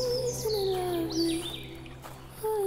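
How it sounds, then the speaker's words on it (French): A small, fearless forest bird in New Zealand's Milford Sound area calls nearby, giving clear sliding whistles and rising chirps over a steady low background hum. "Un petit oiseau nous a vite repérés et a décidé de nous suivre."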